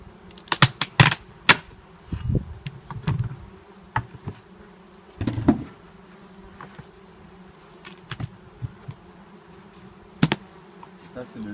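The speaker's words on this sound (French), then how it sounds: "Voilà les abeilles." Honey bees buzz at a beehive amid scattered clicks and knocks, with a few faint voices and brief exclamations nearby.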